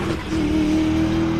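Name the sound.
V8 drift car engine revving leaving the line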